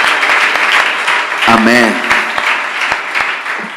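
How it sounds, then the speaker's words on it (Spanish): A church congregation applauds with steady, loud clapping during a service, while a voice briefly calls out over it partway through and single claps trail off at the end. "Dele un aplauso al Señor."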